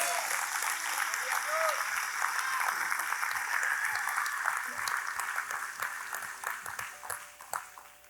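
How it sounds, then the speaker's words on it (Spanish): A church congregation applauds during a Spanish-language service, a moderately loud patter of many hands mixed with voices and a few tonal chirps, thinning out toward the end. "dele un fuerte aplauso al Señor"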